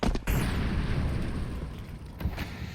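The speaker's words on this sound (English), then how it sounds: "He'll be throwing out multiple nades" Grenades go off in a Counter-Strike pro match at PGL Masters Bucharest: a heavy boom at the start trails into a rumbling roar, and a second burst lands near the end.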